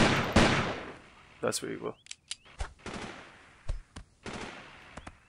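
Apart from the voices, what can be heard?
gunfire in video game Delta Force 2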